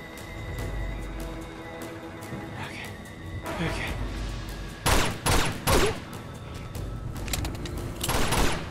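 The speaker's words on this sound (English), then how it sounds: "Someone's shooting." Gunfire during a firefight in the Uncharted 2: Among Thieves video game set in Tibet, scattered sharp shots followed by several loud bursts over busy game ambience, with a person talking throughout.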